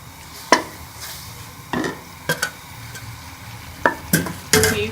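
Ghee goes into a hot pan for a dhaba-style egg curry, giving sharp scattered sizzles and clinks of a spoon against metal, several brief bursts over a quiet kitchen background.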